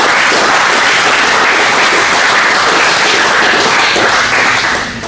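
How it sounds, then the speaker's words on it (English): Loud, sustained applause from a large crowd, a dense wash of clapping that holds steady for several seconds before tapering slightly at the end. "Can we give him another round of applause?"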